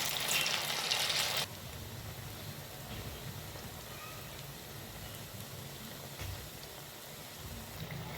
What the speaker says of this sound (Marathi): आता आपण दुसरी बॅच तळून घेऊ